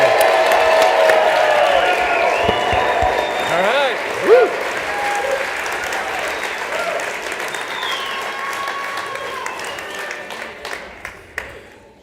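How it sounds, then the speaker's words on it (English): Warm applause and scattered whoops from a crowd welcoming a presenter at a mountain community ski touring talk, loud and sustained then thinning out, with a brief voice speaking near the end. "let's give him a big, warm round of applause and welcome"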